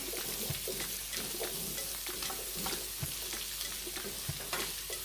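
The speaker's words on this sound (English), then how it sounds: "I'm also going in with my pumpkin. Okay? Saute this a bit as well." Pumpkin sautéing in a pan for Jamaican steam fish with okra, a steady close sizzle with occasional soft stirring knocks and scrapes, no talking.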